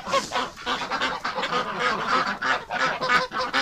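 A close flock of wintering geese and ducks honks steadily in deep winter cold, the calls loud, rapid and overlapping throughout, with no voices among them.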